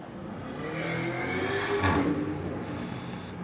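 McLaren engine revving on a street below on a Saturday night in a city, a steady throaty roar that swells and fades, heard from a distance with traffic noise around.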